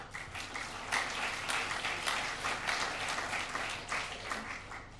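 Audience applause at an evening talk event on water and the city, a steady wash of many hands clapping at a moderate distance, fairly quiet and sustained for several seconds.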